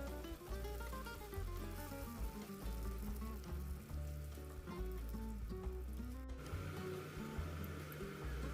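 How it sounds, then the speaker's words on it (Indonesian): Wonton filling batter of noodles and dumpling mix frying in hot oil, a steady dense sizzle and crackle running throughout, close and loud with no talking. "jadi aku langsung goreng aja adonan isiannya"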